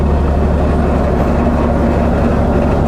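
Narrow-gauge diesel locomotive hauling peat wagons, heard from close by as a loud, constant low engine drone and rumble with rattling running gear, unbroken throughout.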